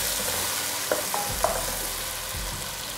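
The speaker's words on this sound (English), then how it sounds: "I'm going to saute this a little. Now I'm going to throw in my diced tomato." Vegetables and diced tomato sauté in a pan for a vegetable sauce, giving a steady low sizzle with a few brief clinks and stirring scrapes, close and moderately loud, with no talking.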